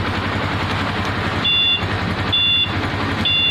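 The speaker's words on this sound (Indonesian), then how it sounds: "Ini bunyi sen kanan kiri" Short, evenly spaced electronic beeps from an aftermarket anti-theft alarm's turn-signal tone on a Honda Tiger Revo motorcycle repeat three times over the motorcycle's steady engine idle close by.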